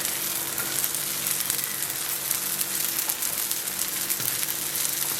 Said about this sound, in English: So we want to fry it until it's brown on both sides.